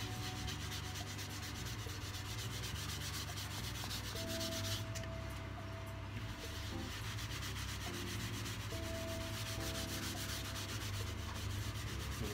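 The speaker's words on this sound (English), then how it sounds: "we're going to rub this in whilst the lathe is switched off" A rag rubbing resin pigment into a wood turning on a stopped lathe, a continuous close scrubbing and swishing with rhythmic back-and-forth strokes, steady and moderately quiet, with no talking.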